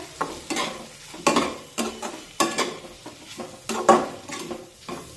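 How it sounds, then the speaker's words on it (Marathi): Ground coconut paste being sautéed and stirred in a pan, a soft sizzle broken by repeated scraping strokes of a spoon against the metal, about six rhythmic stirs, close and clear with no talk. "आणि दोन मिनिटे हे वाटण चांगलं परतून घेऊया"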